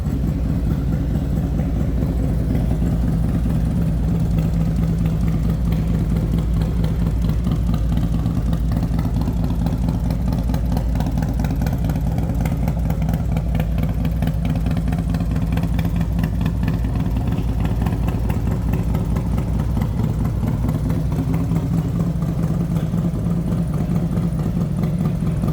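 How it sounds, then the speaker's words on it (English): A 1995 Harley-Davidson Road King motorcycle engine idles steadily and close by, with a continuous low rumble and no voices. "Nice sounding bike."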